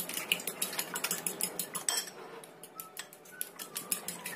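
Two eggs are beaten by hand in a bowl: rapid, rhythmic clinking and tapping, fairly close and quiet, with no talk.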